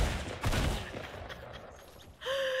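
Gunfire in the video game Fortnite during a squad battle, a short burst of rapid shots up front followed by quieter scattered shots and a brief tonal game sound at the end.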